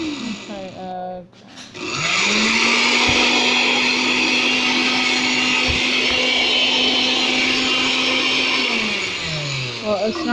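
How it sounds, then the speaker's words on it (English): A blender whirs loudly and steadily as it purees cauliflower mash, starting up after a short quieter moment and running for several seconds before winding down. "I'm going to blend it up a little bit longer."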